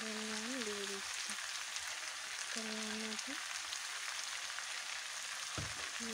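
Chicken meat fries in a pan as salt goes in, a steady soft sizzle beneath, with short tonal hums and a faint clunk breaking through.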